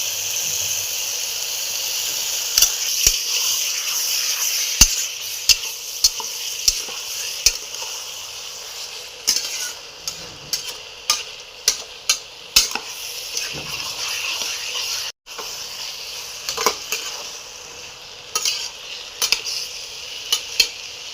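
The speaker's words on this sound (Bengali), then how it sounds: "এবার এর মধ্যে আলুগুলো দেবো।" Potato pieces are stirred in a hot pan with pointed gourd and salt, home-style Bengali cooking, making a steady close sizzle and hiss broken by regular clinks and scrapes of the spatula.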